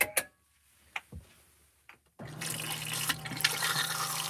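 A plastic caravan toilet flushing, a few quiet clicks and knocks followed by a sudden loud rush of water that keeps pouring steadily to the end, heard close up.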